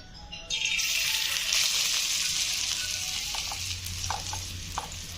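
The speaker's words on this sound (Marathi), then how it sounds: "एक एक वडी काढून आपल्याला तेलामध्ये फ्राय करून घ्यायची" Coriander vadi pieces dropped into hot oil, a sudden burst of loud frying sizzle that settles into a steady close crackle, with a few light scraping clinks near the end.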